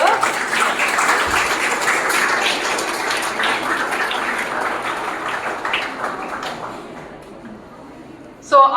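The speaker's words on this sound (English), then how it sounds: "Big round of applause to our sir." A hall audience at a school society's jubilee inauguration applauds warmly for several seconds, the clapping thinning out near the end, with voices mixed in under it.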